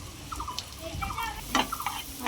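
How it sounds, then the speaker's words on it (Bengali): Chopped garlic dropped into hot refined oil with butter in a pan, giving a close, soft sizzle broken by a few brief clinks and scrapes of stirring. "এর মধ্যে দিয়ে দিলাম রিফাইন তেল এখন আমরা দিয়ে দিচ্ছি রসুন কুচি"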